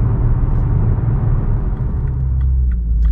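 A 2016 BMW M235i with a six-speed manual pulls hard in fourth gear, its engine a steady, loud, close drone with a low rumble and road noise and no voices.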